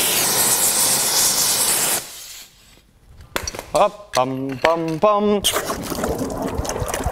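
A hot steel hammer head is quenched in water and shaken vigorously, making loud, rushing hiss and sputter. It breaks off briefly for a man's sung syllables, then resumes strongly.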